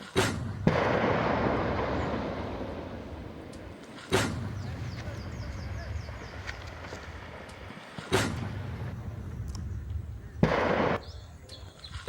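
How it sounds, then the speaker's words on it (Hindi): Several sharp, heavy IED blasts in Chhattisgarh boom at intervals of a few seconds, each followed by a rumbling roar over steady background noise. "ये धमाके की जो आवाज है वो बता रही है कि कितना भयावह रहा होगा ये"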